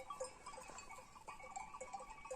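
Sheep bleating out on open flat pasture, several short calls at a moderate distance scattered across the moment, with no talking.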